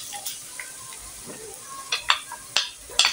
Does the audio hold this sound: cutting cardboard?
no